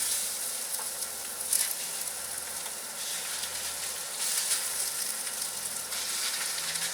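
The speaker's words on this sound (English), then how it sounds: "I'm going to throw my pork chops just right on in there" Boneless pork chops sear in hot oil in a pan, giving a steady, close hiss of sizzling with a few brief louder crackles and no voices.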